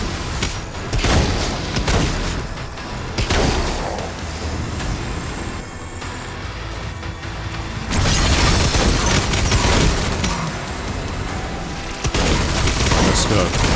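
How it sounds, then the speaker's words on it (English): Rocket launcher blasts in the video game Doom The Dark Ages on Ultra Nightmare, heavy booming explosions stacking into a dense continuous barrage with bursts around the middle and end, loud throughout. "the rocket launcher's definitely overpowered"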